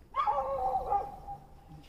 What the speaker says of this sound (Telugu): ఈ కుక్కలు మనల్ని వెనకాల ఎందుకు వస్తున్నాయి